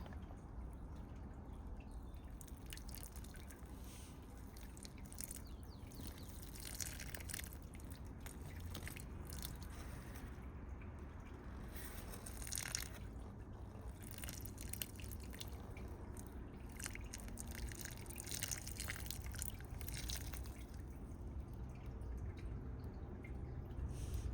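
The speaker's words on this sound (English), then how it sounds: "And we're gonna water it" Water poured gently onto the soil of a freshly repotted miniature rose, a soft steady trickle and drip, close and continuous with no voices.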